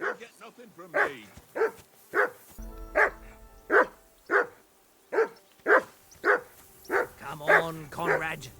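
A dog in the video game Kingdom Come Deliverance barks in a quick, insistent series, more than a dozen loud, close barks with a brief low rumble partway through.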